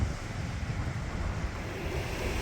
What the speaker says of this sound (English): The waves look really big, actually.